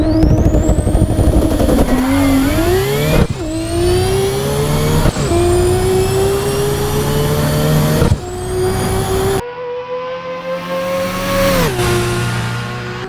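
A fast car revs hard through repeated gear changes, each rising engine whine cutting off and climbing again, loud and close throughout with no talking.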